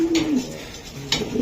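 Racing pigeons coo softly at close range, with a low rolling coo at the start and another near the end, over faint background murmur.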